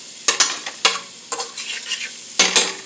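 Ground beef sizzling and frying in a pan over a fire for street tacos, with a steady crackle broken by several sharp scraping stir strokes from a utensil, close and fairly loud, no voices.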